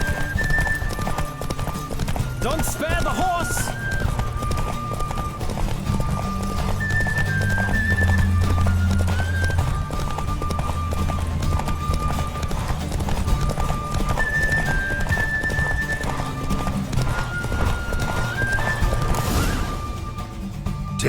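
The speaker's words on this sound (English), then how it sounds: "Don't spare the horse!" Horse hooves clip-clop at a steady gallop with occasional whinnies during a horse race in The Witcher 3, loud and close over game music, with a brief crash-like burst near the end.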